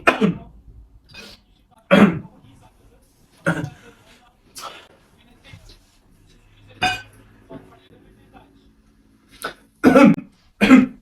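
Repeated loud, close coughs come in bursts spaced a few seconds apart, a fake coughing prank played on an older man, with faint clinks and murmured talk in the quiet gaps between them.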